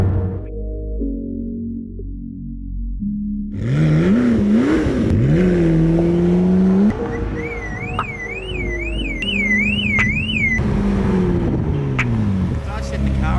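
A 2012 McLaren MP4-12C supercar's alarm wails loudly in rising and falling sweeps and warbling tones, cycling through several siren patterns close by for over ten seconds.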